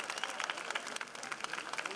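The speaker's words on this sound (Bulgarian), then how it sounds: "Аплодисменти" Spectators at a women's boxing match in Veliko Tarnovo clap for the two boxers, a brisk, moderately distant patter of many hands, with a commentator's voice running over the clapping.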